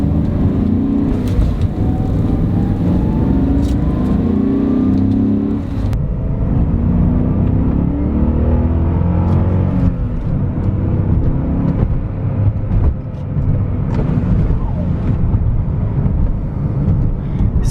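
BMW E39 M5 pulls hard along the road, its engine droning and rising in pitch through the gears with a brief shift dip, heard from inside the cabin with steady road and wind roar, no talking.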